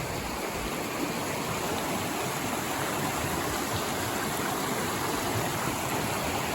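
Steady rushing of creek water along the Appalachian Trail, a constant broadband flow that stays even and unbroken with no voices.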